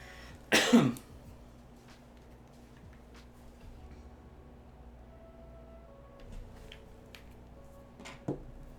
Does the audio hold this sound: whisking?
no